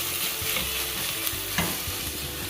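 Onion mixture being stirred in a frying pan while making bechamel bourek, with a steady close sizzle, scraping spoon strokes and a couple of sharper clinks against the pan, no talking.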